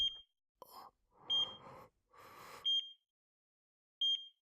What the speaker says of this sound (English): I could hear a monitoring device near her, beeping at regular intervals.